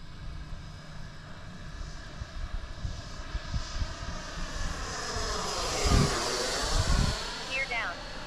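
A T-7A radio-controlled model jet with an 80mm electric ducted fan whines steadily, its pitch sweeping as it makes a pass and shifts near and far, with someone talking over it and wind buffeting the microphone.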